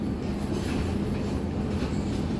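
Interior of a Siemens Class 700 train at Catford Bridge station, a steady low rumble and hum of the carriage with no announcement or talk.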